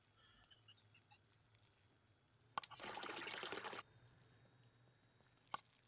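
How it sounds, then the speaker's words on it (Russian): A splashing, trickling burst of water lasting about a second plays alone as a character drinks in the survival video game SCUM, framed by faint clicks and a quiet ambient hum. "О, здесь можно воды попить."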